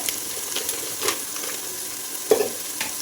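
Masala with coriander powder and chili powder frying in a pan for kothambari bath, a close, steady sizzle with irregular scrapes and knocks of a spoon stirring, no talk.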